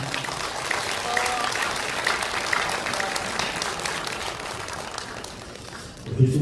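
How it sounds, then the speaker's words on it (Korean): At a politician's talk concert, an audience fills the hall with sustained applause, a busy patter of many hands that eases slightly before a voice cuts in at the very end. "큰 박수 부탁드립니다"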